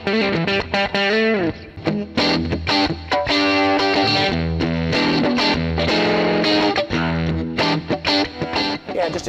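Distorted electric guitar through a Headrush MX5 pedal preset plays a gritty classic rock riff, loud and saturated, with chords and short pauses between phrases.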